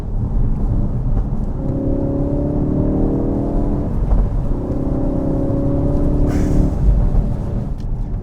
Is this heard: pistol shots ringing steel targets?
no